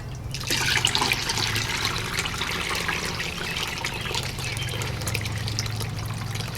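Melted beeswax pours steadily through cheesecloth in a continuous close trickle that runs for several seconds over a low hum, with no talk.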